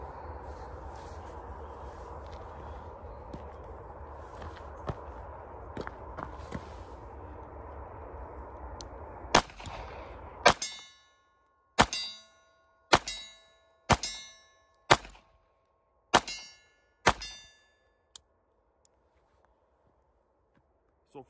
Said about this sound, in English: Let's go ahead and dump a mag and make sure this guy's gonna be reliable.